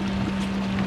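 A Thrustme Kicker 1kW electric outboard motor at full thrust drives a small boat, giving a steady, even whine with a strong constant hum, wind and water noise around it and no talking.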